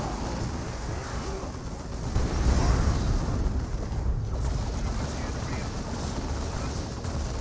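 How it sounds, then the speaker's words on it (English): Power generators take fire in a real-time strategy game, with muffled, rumbling explosions swelling into a dull roaring wash under a narrating voice. "Power generators receiving some fire now."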